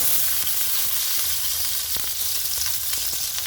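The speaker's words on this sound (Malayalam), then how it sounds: "എണ്ണ ചൂടായതിനു ശേഷം നമുക്ക് അരിഞ്ഞു വെച്ചിരിക്കുന്ന സവോളയും പച്ചമുളകും ചേർത്ത്" Sliced onions and green chilies frying in hot oil, a steady dense sizzle with soft crackles running throughout at close range, no voices.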